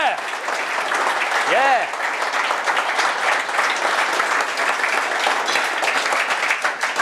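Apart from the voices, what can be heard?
audience applause at tester gathering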